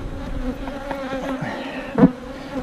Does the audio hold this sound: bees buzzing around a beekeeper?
yes